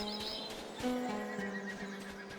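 A horse neighs and whinnies in the video game Humankind, with hooves clip-clopping alongside, set against a steady background hum.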